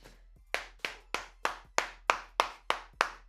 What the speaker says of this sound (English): Clap it up for Nic Rohloff.